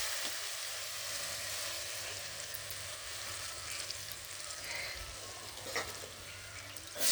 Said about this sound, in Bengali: দেখো গুগলির আলুগুলো ভাজা করে নেব।